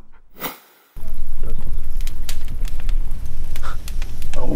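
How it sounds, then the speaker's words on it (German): A campfire crackles loudly and steadily with dense pops and hiss, starting just after a brief voice at the start. "Ich habe Feuer gemacht!"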